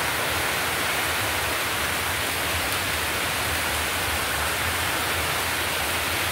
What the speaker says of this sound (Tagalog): ganyan ulan-ulan,